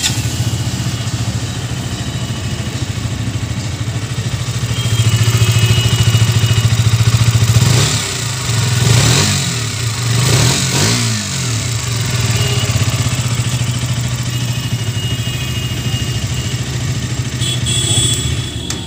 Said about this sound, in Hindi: चलिए सुन लेते हैं इस गाड़ी के एग्जॉस्ट नोट